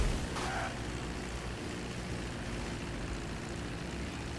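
A propeller airplane engine in Grand Theft Auto V drones in a constant, broad roar that holds steady without change, with a brief higher tone near the start.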